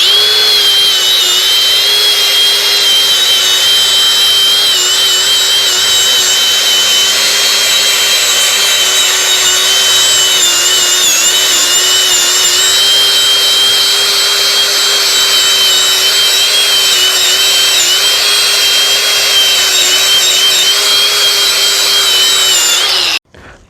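A Craftsman 20V brushless angle grinder running on a 6 Ah battery grinds wallpaper off a concrete wall, a steady, piercing high whine held loud and unbroken for over twenty seconds before cutting off abruptly at the end.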